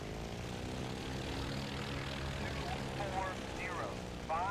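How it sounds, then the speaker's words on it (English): A propeller aircraft engine in the combat flight game IL-2 1946 drones steadily and loudly throughout while the plane lines up on final approach to a carrier flight deck. "All right, we're throttling back."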